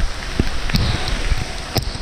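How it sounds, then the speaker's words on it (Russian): Heavy downpour outdoors near a château in the Loire Valley, France: a dense, steady hiss of rain with scattered louder drops and splashes, and no one speaking. "Просто льет как из ведра."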